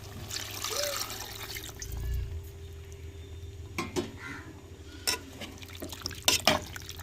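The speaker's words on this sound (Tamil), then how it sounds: "தேவையான தண்ணி ஊற்றிக்கிறோம்." Water poured into a pan of squid curry with tomato, onion and spices makes a brief low gurgle and splash, followed by faint drips, clinks and a quiet background hum.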